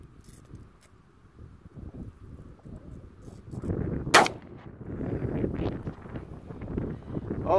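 An old black powder shotgun with a Damascus barrel fires a single sharp, loud shot midway through, outdoors amid gusty wind noise.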